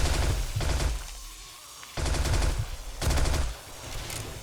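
Sustained automatic gunfire in the zombie survival game 7 Days to Die during a horde night at a defended base, loud rapid bursts repeating with brief pauses between, close and dense, with no talking.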